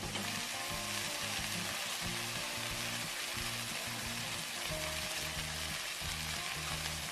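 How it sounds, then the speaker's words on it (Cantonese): Chicken drumettes with lemon sizzling steadily in a frying pan, a loud, continuous crackling fry with a low rhythmic pulsing underneath, no voices. "咁煎到兩邊都金黃咧，就落埋檸檬"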